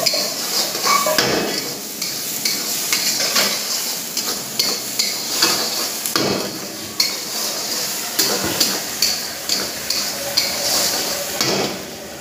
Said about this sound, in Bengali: তারপরে পরিমাণ মতো একটু লাল লাল করে ভেজে নিতে হবে